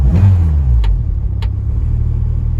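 A car engine running on E85 fuel after a restart settles into a steady low idle rumble, loud and close, with a couple of faint clicks over it and no talking.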